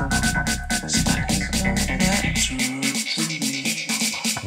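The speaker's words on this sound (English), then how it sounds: "putting a nice bit of a delay tail on a sound like this as it drops." Loud electronic track with driving beats whose low end suddenly cuts out as it drops. A delayed, echoing sound tail repeats and trails off into the distance over the thinned mix, with no talking.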